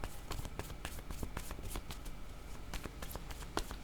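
Tarot cards being shuffled by hand, a close, dense, continuous riffling and slapping of card stock with rapid rhythmic flicks throughout.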